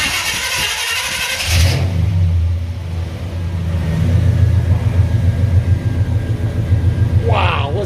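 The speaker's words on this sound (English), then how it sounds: "Let's motor her up. Our first start up with AMSOIL." A classic car engine, freshly treated with AMSOIL after 80,000 miles, turns over and fires, then settles into a steady, fairly quiet idle with a low rumble; a brief voice is heard near the end.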